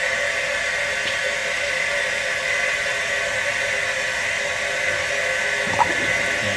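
Water flowing up into a plasma cutting table's water tray under air pressure, a steady, even rushing wash with a faint brief splash near the end.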